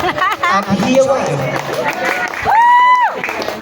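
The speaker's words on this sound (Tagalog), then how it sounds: "Sabay-sabay po nating palakpakan at hiyawan." An audience at a 60th birthday party claps and cheers amid crowd chatter, with an emcee's voice over the noise and a rising and falling whistle-like tone near the end.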